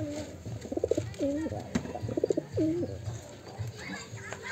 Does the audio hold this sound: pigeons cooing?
yes